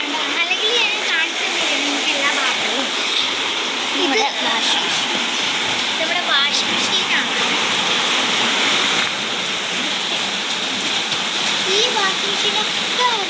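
Heavy rain pours steadily outside a house, a dense, loud wash of water noise that never lets up, with a voice talking over it throughout.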